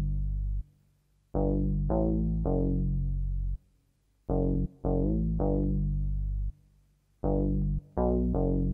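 A deep bass one-shot from a one-shot kit, playing sustained low notes in short repeating phrases with gaps between them, loud and alone.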